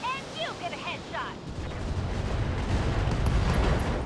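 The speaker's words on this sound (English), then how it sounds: "Ammo explosions." Ammo explosions in the BattleTech mech combat game: a deep, sustained rumbling blast roars up after a brief stretch of talk and holds loud and dense to the end.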